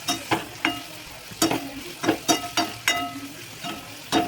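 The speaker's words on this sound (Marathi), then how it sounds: "हलक्या गॅसवरती ठेवला तर नंतर मग मिरची टाकायची" Green chilies stirred into onions frying in a pan over low heat, giving a steady sizzle broken by a series of sharp, evenly spaced scraping stirs close by, with no talk.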